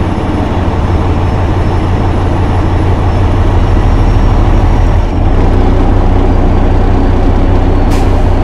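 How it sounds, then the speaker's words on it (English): A truck idles loudly and steadily while its air brake system builds pressure, then the air dryer purges with a short, sharp burst of escaping air near the end. "we'll hear the purge from the air dryer"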